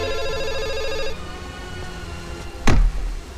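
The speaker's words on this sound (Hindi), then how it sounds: "फोन बज रहा है।" A telephone ringtone in a closed shop plays as a steady electronic tone for about a second, followed by a brief loud rustle or thump.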